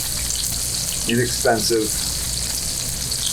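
Scottish salmon pan searing in a frying pan gives a steady broadband sizzle that runs the whole way through, with someone speaking briefly over it near the middle.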